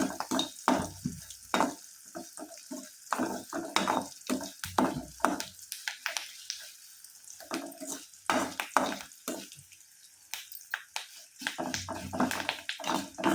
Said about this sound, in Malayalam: ഇനി നമുക്ക് വറുത്ത് കോരിയെടുക്കാം